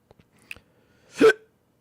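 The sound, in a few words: hiccup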